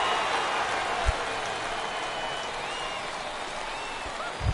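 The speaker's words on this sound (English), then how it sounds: "Dan, when it comes to pitching in the rain, what changes?" Steady rain pours over a baseball field in a baseball video game, a dense continuous hiss that fills the whole moment, with a couple of brief low thumps breaking through the wash.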